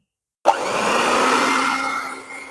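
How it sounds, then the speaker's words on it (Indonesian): An electric mixer on its lowest speed, mixing sponge cake batter, starts abruptly after a moment of silence and then whirs steadily and loudly before easing slightly toward the end. "Sekarang di mixer dengan kecepatan paling rendah, cukup tercampur saja."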